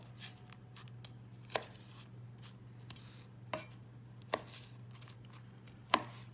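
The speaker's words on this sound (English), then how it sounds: "So I just simply cut them into chunks or squares." A knife chops food into chunks on a board. Several sharp cuts fall at irregular intervals over a steady low hum, with faint clatter in between and no speech.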